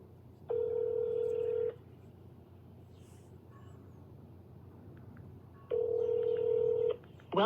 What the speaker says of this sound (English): make another phone call.